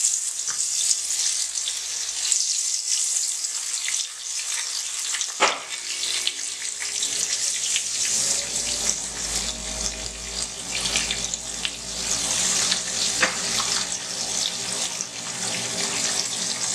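Goat cheese tempura frying in hot oil, a steady close sizzle with bubbling and hissing that runs continuously without talk, rising slightly in intensity partway through.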